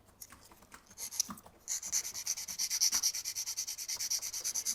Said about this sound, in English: So I'm going to get a 240 grit file and I'm just going to square this off a little bit.